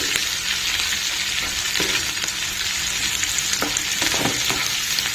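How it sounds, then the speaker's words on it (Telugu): Oats khichdi with chilli and curry leaves frying in a pan, a dense continuous sizzle with occasional spoon scrapes cutting through, close and steady throughout, no talking. "ఫ్రై అయ్యే వరకు ఒక వన్ మినిట్ వెయిట్ చేద్దామండి"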